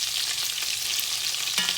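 Ground beef meatballs frying in a pan, a steady dense sizzle with faint crackles throughout, close and continuous, no voices.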